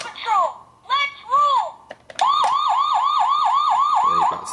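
A Paw Patrol Chase transformer toy plays short electronic siren bursts, then a steady wailing siren loop, loud and close with no voices over it.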